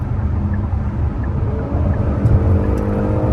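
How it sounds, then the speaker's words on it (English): A Hyundai Palisade SUV accelerates hard to pass, a steady close engine and road roar swelling as the transmission quickly downshifts and revs climb, with no talking. "That has a really responsive downshift, and it downshifts pretty quick."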